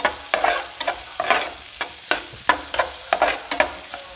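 Two tablespoons of chopped onion sauté in a hot pan, with a soft sizzle broken by about ten rhythmic scraping stirs of a spatula, close and clear.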